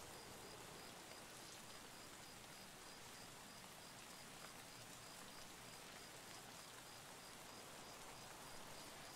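Rain falls in the video game Escape from Tarkov as a steady, soft, even hiss of drops on surfaces. It is faint and continuous, with no voices over it.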